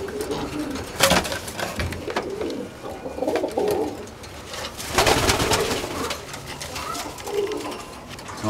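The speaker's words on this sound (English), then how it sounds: "And there are my first Shannon breed tipplers," Shannon breed tippler pigeons coo repeatedly nearby in soft throaty bursts, mixed with wing flaps and rustling around the loft.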